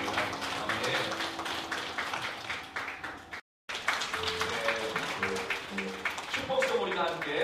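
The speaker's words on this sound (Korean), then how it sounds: "하나님께 감사의 박수를 올려드리겠습니다." A church congregation claps together during a Sunday service in Suwon, with a steady patter of applause throughout and a brief cut in the middle. A voice speaks over the clapping.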